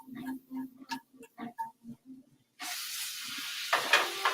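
Garlic hits a hot pan with onions and breaks into a sudden steady sizzle after a pause. A voice speaks over a quiet background just before, and the hiss continues at moderate loudness.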